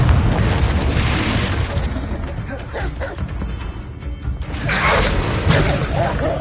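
A Confringo spell explosion in Hogwarts Legacy erupts as a loud blast, followed by a rumbling crash and a second burst near the end, with voices and other game sounds mixed in.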